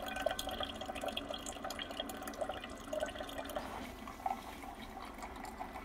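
A Ninja coffee maker brewing coffee, with continuous dripping and trickling liquid that stays steady and moderately loud throughout, and no voices.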